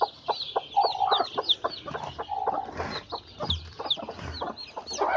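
A brooding hen sitting on eggs gives repeated close, short clucks in an uneven rhythm, with occasional louder calls among them.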